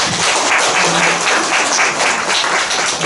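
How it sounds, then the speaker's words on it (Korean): Dense, steady applause from a large audience at a book concert in a church hall in Daegu, South Korea, a continuous roar of many hands clapping at once without pause. "박수 좀 주세요."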